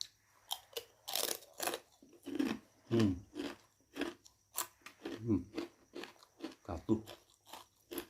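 Crisp Wonosobo mendoan tempe chips crunch between teeth in a series of sharp, close bites and chews, irregular bursts with short pauses, a brief spoken word slipping in among them.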